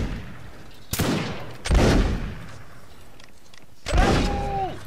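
Musket volleys from a reenactment regiment, several loud sharp cracks a second or so apart with booming echoes trailing off, a whistle-like tone sounding after the last shot.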